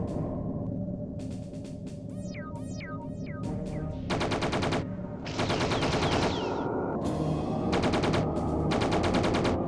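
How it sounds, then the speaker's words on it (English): Plasma gun fire in the video game G-Police 2: rapid repeated electronic bursts and descending zaps over a steady droning game background, loud and continuous, with no talking. "Oh, I hate this plasma gun."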